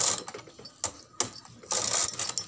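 A knitting machine carriage is pushed across to knit a row of stitches, giving close mechanical clicking and a sliding, ratcheting rattle in short bursts.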